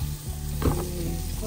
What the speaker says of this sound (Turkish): Tereyağımızın tam kokusunu alana kadar kızlar biraz kızartmamız lazım.